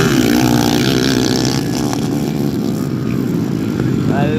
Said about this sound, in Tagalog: Murag Abirya ang motor Joel bay.